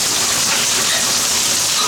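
Heavy rain from a supercell thunderstorm at an apartment pours down as a dense, loud, steady wash of hiss, continuous and close with no breaks.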